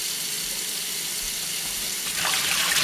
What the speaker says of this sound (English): and then got to wash the stems.